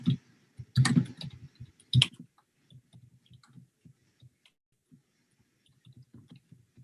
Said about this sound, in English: I'll just type it for you here.